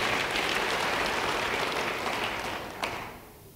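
Church congregation applauding after a pastor's call during a sermon, a steady wash of many hands clapping that holds for a few seconds, then thins and fades at the end.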